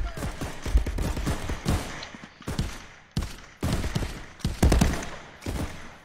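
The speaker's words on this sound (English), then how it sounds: "Somebody keeps shooting me." Rapid gunfire in the VR shooter Contractors on Meta Quest crackles almost nonstop, with loud bursts and brief lulls close to the listener.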